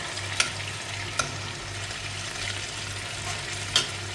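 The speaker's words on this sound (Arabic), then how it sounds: "خلص هيك نقليهم نص قليه مو كامله" Pieces of hammour fish half-frying in oil, a continuous close sizzle with a few faint clinks of a utensil against the pan.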